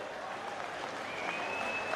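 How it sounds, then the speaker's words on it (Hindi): A crowd at a political rally claps to welcome the Congress party president, a steady wash of distant applause with a faint voice over it. "उनके लिए जोरदार तालियों से उनका स्वागत करें"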